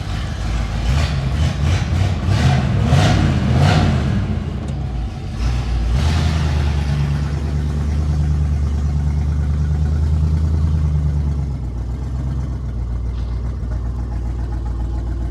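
A 1968 Buick LeSabre convertible found in a barn, with a freshly rebuilt carburetor, running on its first drive in over 25 years: several revving bursts, then a steady low engine drone that eases off at the end.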